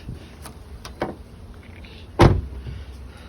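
A 2012 Ford Mustang GT undergoing front crash repair has its door swung shut, a single solid thud heard near the end after a couple of lighter clicks and knocks in a quiet garage.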